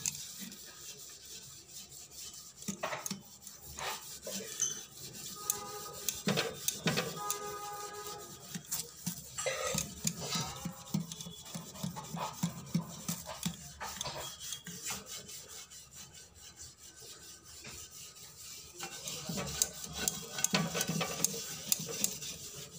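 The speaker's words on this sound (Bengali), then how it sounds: "বেসিন পরিষ্কার করে দিচ্ছি।" Intermittent scrubbing and rubbing on a sink basin, quiet scraping bursts with irregular rhythm and occasional clatter, close and fairly faint.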